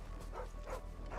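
A dog barks and yips a few times in quick succession in the video game Final Fantasy XVI, moderately close and fairly quiet, with no talking over it.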